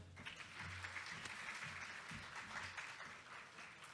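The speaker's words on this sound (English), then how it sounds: "Give him a round of applause." An audience at a religious lecture on the loss of loved ones gives a round of applause, a sustained crowd of hands clapping evenly for several seconds, fairly quiet and distant, with little talk.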